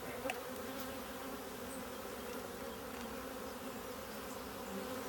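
A close, continuous hum of many honeybees crawls over natural-wax comb full of brood, pollen, nectar and honey during a hive frame inspection, the drone staying even throughout with no voices.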